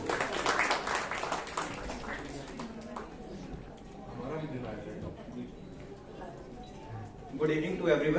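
Audience applause at a Nari Shakti award ceremony at Gymkhana Club Karnal, welcoming a sponsor speaker. A loud burst of clapping fills the opening seconds, then fades under a speaking voice, with more noise swelling near the end.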